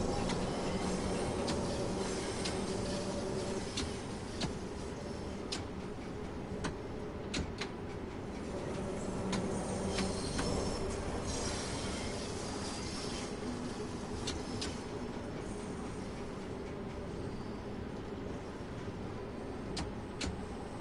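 A Bakerloo Line Underground train in the Train Sim World 2 game runs along at about 25 miles per hour, giving a steady broadband rumble and rail roar with faint clicks and squeals throughout, continuous and fairly quiet.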